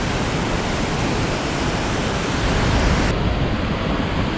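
A roaring waterfall at Ozone Falls, Tennessee, pours down as a loud, steady, close wash of broadband noise that continues unbroken throughout, with no voices.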